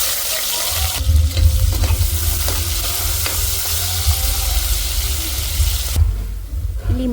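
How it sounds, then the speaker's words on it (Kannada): Nigella seeds and cumin dropping into hot oil, a loud, close sizzle and fry that flares up sharply, settles into a continuous crackle with stirring noises, then cuts off near the end. "ಇಲ್ಲಿ ನಾನು ಆಯಿಲ್ ಹಾಕ್ತಾಯಿದ್ದೀನಿ. ಕಲಂಜಿ, ಜೀರಿಗೆ, ಹಿಂಗೆ ಹಾಕ್ತಾಯಿದ್ದೀನಿ."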